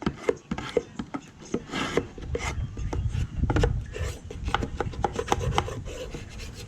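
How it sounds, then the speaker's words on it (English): Scraping clusters of earwig eggs off a surface, a close, dry rasping with repeated short strokes in an uneven rhythm, loud throughout with no talking. "I'm just gonna scrape them."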